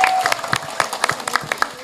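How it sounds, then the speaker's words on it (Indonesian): Applause at a 16th birthday celebration: a small crowd claps in uneven, spaced bursts. A steady tone runs underneath. "Tepuk tangan untuk kita semuanya"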